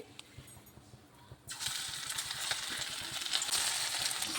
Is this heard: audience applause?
no